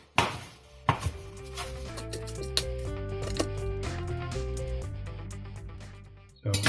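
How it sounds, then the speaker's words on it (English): A knife rough-chops fresh asparagus on a cutting board, a few crisp isolated knocks at first, then a sparse run of softer cuts beneath faint background tones, with a final cluster of chops at the end. "So I'll just give it a quick rough chop here because it's going to shrink anyway"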